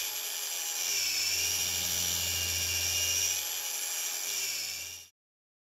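Steady high-pitched whir of a polisher with a driving pad working a weld seam on square stainless steel tubing, running continuously up close for about five seconds, then cutting off abruptly.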